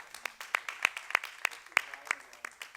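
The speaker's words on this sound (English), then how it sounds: "Let's give Brian a round of applause." A small group at a tai chi gong session claps, with distinct individual hand claps in an uneven but brisk rhythm, close and clear.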